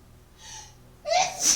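A single close sneeze from a person: a soft breathy intake, then a sudden loud, airy burst that ends abruptly.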